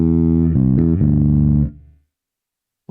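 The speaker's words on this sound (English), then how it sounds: "Circle of third in pentatonic scale should sound like this." A bass guitar plays a short circle-of-thirds phrase in a pentatonic scale: a few deep, slightly gritty notes in quick succession that ring out and then fade to silence.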